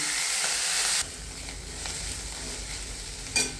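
Fenugreek leaves sizzle and hiss steadily in a pan on low gas while being stir-fried, a close continuous frying crackle with a brief louder burst near the end and no speech.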